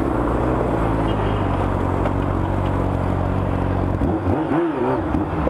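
A Honda Hornet motorcycle engine idles with a steady low throbbing hum, close and loud, then briefly revs near the end.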